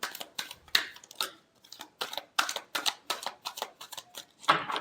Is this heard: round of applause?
no